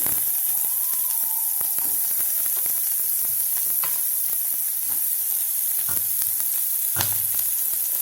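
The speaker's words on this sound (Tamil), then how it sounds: "இப்போ கடுகு வந்து நல்லா பொரிஞ்சோன்னே நான் வெங்காயம் போட்டுக்கிறேன்." Sliced onion is tipped into hot oil with popping mustard seeds, a loud steady sizzle throughout with scattered crackles, pops and occasional stirring knocks against the pan.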